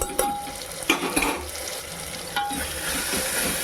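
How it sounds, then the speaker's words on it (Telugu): Mutton keema with ginger-garlic paste frying in a pan while being stirred, a steady close sizzle with a few louder scraping clinks of the spoon against the pan. "ఇది బాగా ఫ్రై చేసుకోవాలి ఇందులో కాస్త ధనియాల పొడి వేసుకోవాలండి"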